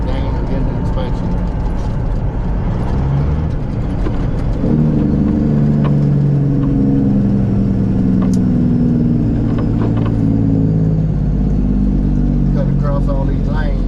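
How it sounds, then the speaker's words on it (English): Steady road noise from a car driving in heavy traffic on a multi-lane road, with a constant engine drone and tire rumble throughout as another car tries to cut in alongside. "A car trying to cut in beside me."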